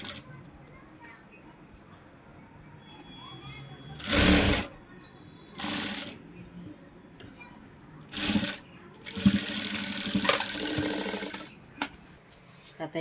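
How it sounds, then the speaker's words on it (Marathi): Sewing machine cover-stitching a blouse side seam, heard in several short loud bursts of running stitches separated by quieter pauses, with faint handling noise between runs. "याला कवर शिलाई पलटी मारून याला असे मस्तपैकी कवर शिलाई करून घेऊया आपण"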